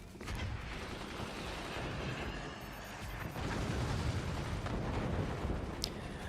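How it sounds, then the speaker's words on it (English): Mortars fire in the physics-based RTS Forts during a co-op tournament, a faint, dense rumble of distant launches and impacts layered over steady battle noise, with no one talking. "The mortars look well aimed"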